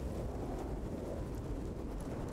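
A heavy storm in the No Man's Sky video game roars as a dense, continuous wash of rain and wind, with a low rumble that may be thunder and no talking over it.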